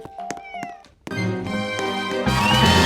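A cat meows in the Roblox video game, sounding as several short mews over game music and effects that swell louder toward the end.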